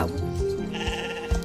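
A sheep bleats in the video game Star Stable Online, a short wavering farm-animal call heard up close and clearly, with little else around it.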